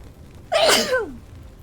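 A single sharp human sneeze, loud and close, bursting out with a quick intake before it and fading into quiet, with no talking around it.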